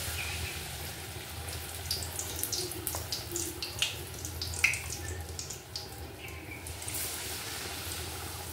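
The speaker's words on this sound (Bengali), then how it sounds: "বেসনের মধ্যে বেগুনের চাকাগুলোকে এইভাবে ডুবিয়ে সোজা তেলের মধ্যে দিয়ে দেবো।" Slices of eggplant dipped in gram-flour batter fry in hot oil, giving a continuous crackling sizzle with scattered sharper pops. The sound is steady and close throughout, with no talk.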